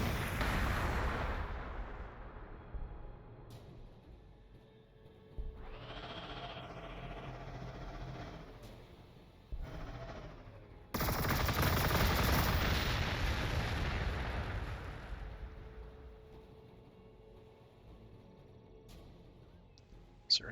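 Missiles fired in the strategy video game Warhammer 40,000: Gladius roar out as several long, rumbling launches and deep booms that swell and fade over the span, loud and layered.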